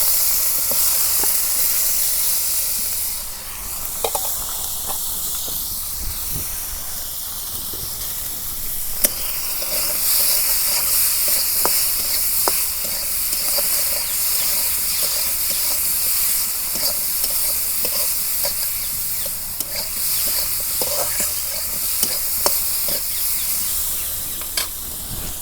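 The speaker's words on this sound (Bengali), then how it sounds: "মাছের মাথা গুনা ভাইজা নেই।" Taki fish heads frying in mustard oil in a village kitchen, producing a sustained loud hissing sizzle with frequent sharp pops and spatters and occasional scraping of a spatula throughout.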